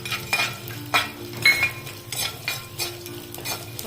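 Edible gum being stirred and roasted in a spoonful or two of ghee in a pan, with spoon scrapes and clinks against the metal over a soft sizzle, close by and steady with small repeated bursts.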